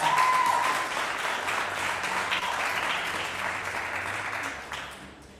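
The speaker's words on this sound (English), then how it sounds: "Another round of applause." At a World Robot Olympiad awards ceremony in Zimbabwe, an audience gives sustained applause to the winning robotics champions, a broad crowd wash of clapping that gradually fades toward the end.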